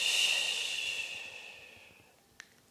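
A long, slow exhale through the mouth during qi gong anti-anger breathing practice, a soft airy hiss that fades gradually, followed by a brief faint click near the end.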